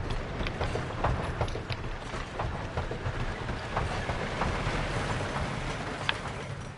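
A train runs on rails in a park-building video game, a steady rolling rumble with light rhythmic clicks of wheels over track joints, continuous and even throughout, without talk.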